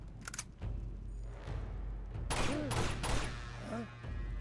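Bursts of sniper and rifle fire in the video game Uncharted: Among Thieves, sharp cracks and short volleys at varying distances over a low rumble, with players talking.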